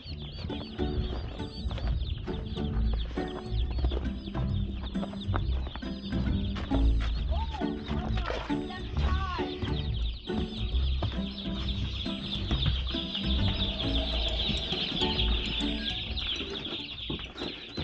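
Turkeys brought in from the cold into a farm shed cluck and gobble continuously, a dense flock close by with busy chatter, scattered calls and occasional wing flaps, the noise steady throughout.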